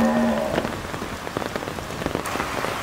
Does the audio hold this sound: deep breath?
no